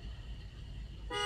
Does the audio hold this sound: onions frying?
no